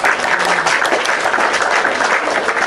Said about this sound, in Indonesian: aduh, tepuk tangan kali.